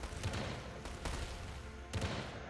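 Massed cannons firing in a strategy video game, heard as a quiet, continuous rumble of overlapping volleys with several sharper booming bursts.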